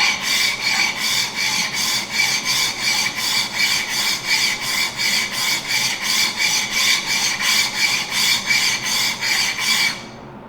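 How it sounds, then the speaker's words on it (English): A hand plane blade is pushed back and forth on a sharpening stone, giving about twenty evenly paced, close, gritty rasping strokes that stop just before the end. "As I work the plane back and forth, I'm trying to cover the whole surface of the stone"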